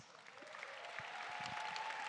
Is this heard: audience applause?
yes